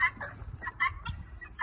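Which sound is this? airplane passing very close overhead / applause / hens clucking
hens clucking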